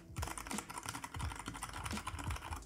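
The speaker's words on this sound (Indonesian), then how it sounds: "Oke, itu tadi untuk bunyi yang brown switch ya." Quick, close-up keystrokes on a Keychron K8 mechanical keyboard fitted with brown switches, a burst of irregular clacky taps and thocks with no talking over them.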